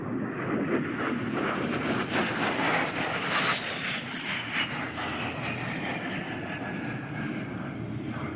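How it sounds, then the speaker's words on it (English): An A-10 Thunderbolt II jet roars past at an airshow, a loud continuous engine rush with a falling whine as it flies by the crowd, no speech over it. "that beautiful A-10 Thunderbolt II"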